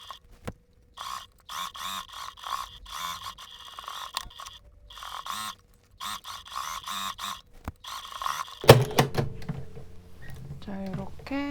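A sewing machine stitching a collar seam onto a dress, with repeated short bursts of rhythmic whirring stitches separated by pauses, fairly quiet, followed by handling and fabric rustle.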